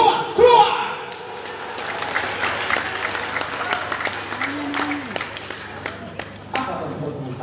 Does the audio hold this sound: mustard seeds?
no